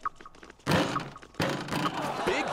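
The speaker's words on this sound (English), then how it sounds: "Off the backboard." Basketball hitting the backboard in 3on3 Freestyle, two solid heavy thunks a moment apart, loud and close, with faint game noise around them.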